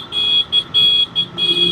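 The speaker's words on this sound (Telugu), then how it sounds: "మ్యూజిక్ హారన్ మర కొడతారు" A vehicle's musical horn plays a loud, close tune in about four bright, sustained bursts separated by short gaps.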